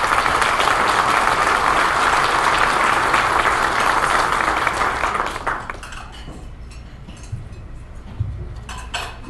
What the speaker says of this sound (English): So a round of applause, please, for those who did it.